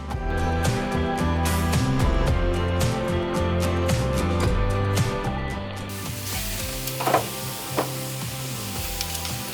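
Chicken thighs marinated in lemon and wine sizzle on a grill. A steady hiss runs under background music, then fades after about six seconds, leaving a few faint crackles.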